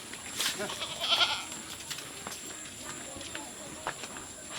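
Goats bleat in a village livestock yard, a few short nearby bleats early on amid low background noise, with people talking in the rural setting.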